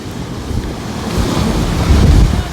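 Sea waves washing against the Odesa shore on a Saturday morning, a steady rushing surge with wind buffeting the microphone, swelling louder toward the end.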